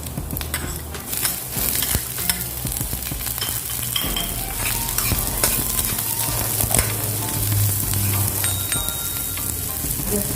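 Chopped onion sautéing in a hot pan for sautéed bitter melon with ground pork, a steady dense sizzle and crackle throughout with occasional stirring clinks, close and loud with no talking.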